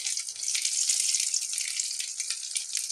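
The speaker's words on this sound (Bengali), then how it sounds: "এবার ভাজবো তেল দিয়ে" Fritters of pui leaves and shidol, coated in rice-flour paste, sizzle in hot oil with a close, steady hiss and bubbling that continues throughout, with no talking.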